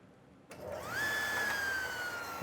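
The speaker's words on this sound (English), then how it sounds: "I'm going to do a quick test cut here just to make sure I'm not" A power saw spins up and makes a quick test cut in wood for a decorative box joint, its whine rising to a steady high pitch and holding loud and close.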